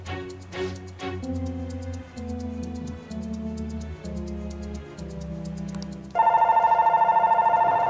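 A phone rings in Persona 5, a bright repeating electronic ring pulsing steadily over the game's sustained background music, entering loudly near the end.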